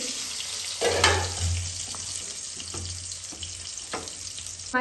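Eggplant and onion frying in a home kitchen pan, a steady broadband sizzle with a few scraping stirs and clinks over low rumble, no voices.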